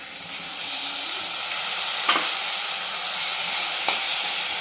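Spices fry in oil for a chavli bean curry, making a loud, steady close sizzle with a couple of faint utensil taps, no voices.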